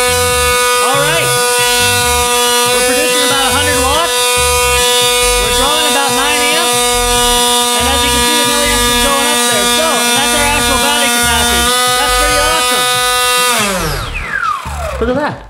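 Small electric motor of a model airplane spinning a propeller during a watt meter test, a loud steady whining buzz rich in harmonics, wavering slightly in pitch for about fourteen seconds before spinning down at the end.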